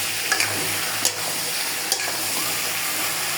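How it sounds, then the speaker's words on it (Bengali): Spices and plantains stirred and frying in a pan while cooking a fish curry, a steady sizzle with a few scraping stir sounds and clicks, close and alone. "ভালো করে কলা দিয়ে মশলাগুলো ভালো করে কষিয়ে নেব।"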